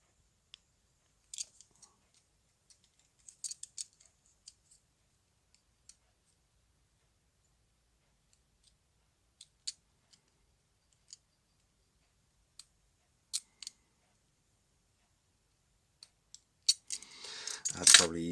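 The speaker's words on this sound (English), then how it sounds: "That's probably easier with the scissors here" Scissors snip at parts during a hands-on repair of a tiny ducted whoop drone: sparse, quiet isolated clicks and cuts across a mostly silent stretch, then a quick cluster of handling noises at the end.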